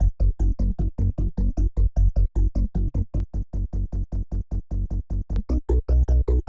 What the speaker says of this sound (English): I'm actually using one of the factory presets, which is called Funky Bass